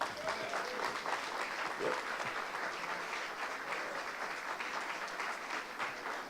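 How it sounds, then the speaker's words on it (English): A banquet audience at a sports club's centennial celebration gives sustained applause for baseball player Roy White. Dense, even clapping carries on throughout, with a faint voice briefly audible underneath. "Roy White, everybody. Big round of applause."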